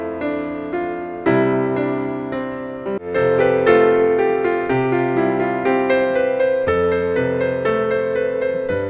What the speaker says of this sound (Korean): 캐논 변주곡이 들려오고